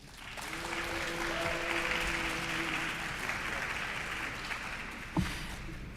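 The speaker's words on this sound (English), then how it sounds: "I would like to remind the audience that clapping is a disruption of a congressional proceeding" Audience clapping at a congressional field hearing, a sustained, moderately loud patter of applause across the room that fades slightly before a sharp knock near the end.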